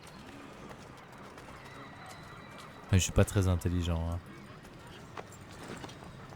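Horse in the game Assassin's Creed 3 Remastered, a burst of hoof clip-clop and a whinny lasting about a second, loud over steady game ambience, with someone talking briefly.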